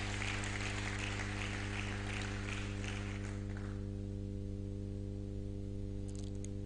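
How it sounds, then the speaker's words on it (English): Brief applause at a university anniversary lecture for a guest doctor fades out after a few seconds, leaving a loud steady electrical hum with a couple of faint taps near the end. "Please a round of applause for her."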